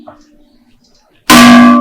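A single loud gong crash rings out after near silence, a bright metallic strike that sustains with a shimmering tone to the end; faint murmuring precedes it.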